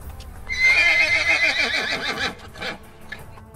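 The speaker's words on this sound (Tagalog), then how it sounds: "makarinig sila ng halinghing ng isa pang kabayo" A horse gives a loud, close whinny that rises and then shudders downward, with a few hoof clip-clops and scuffs trailing off afterward.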